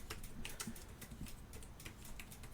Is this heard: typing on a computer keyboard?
yes